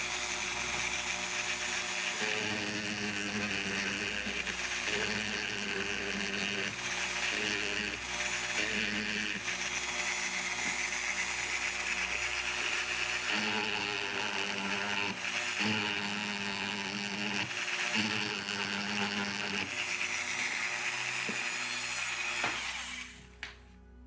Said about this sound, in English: I will go in here at about this angle to kind of drill that out, make it smoother and the like